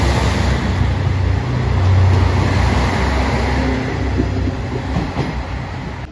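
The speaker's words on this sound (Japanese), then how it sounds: "高松駅10時9分発特急渦潮9号徳島駅アンパンマンカー付き" The Uzushio limited express with an Anpanman car runs by on the line, a loud continuous rumble with clickety-clack of wheels on rail joints, close and steady, with no talk.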